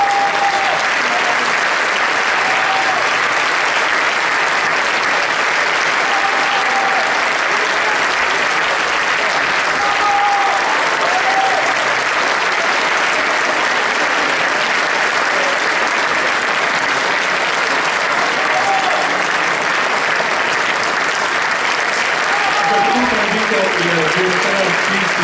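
Loud, continuous applause from an audience at an international opera singing competition, greeting the first-prize baritone, dense clapping sustained for about twenty-five seconds with occasional cheers and a few voices near the end.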